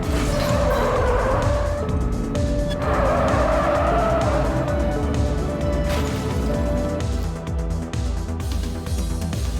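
Car tires skidding and squealing during a police pursuit in the video game The Precinct, loud and continuous over a roaring engine and busy game sound, with sustained squeals rising and falling.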